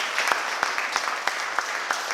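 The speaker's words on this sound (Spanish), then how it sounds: "dale un aplauso a Cristo." A church congregation at a Sunday service applauds briefly, a short burst of mixed clapping with a few sharper individual claps standing out, moderately close.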